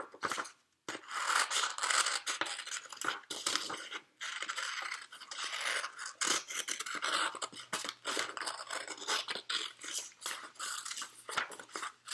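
Scissors cut a figure out of cardboard up close, with continuous rasping snips and crunching blade strokes broken by brief pauses as the cut is repositioned.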